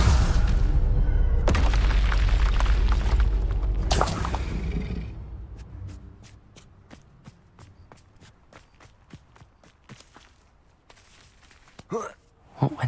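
A Bombarda blast spell in a Harry Potter game: a loud booming burst at the start and another near four seconds, then quieter footsteps ticking in a steady rhythm, ending with a short sharp pop.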